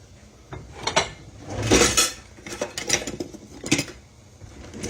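Buttermilk batter stirred in a bowl in a home kitchen, a spoon scraping and clinking against the sides in irregular close strokes with soft wet swishes, no talking.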